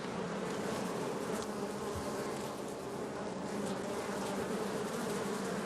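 Honeybees swarm and drone steadily at an open hive during inspection, a dense, continuous buzz close by with no talking.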